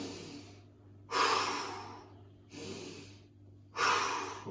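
Person holding a straight arm plank, breathing in slow audible cycles, three strong close exhales alternating with quieter inhales over a low steady hum.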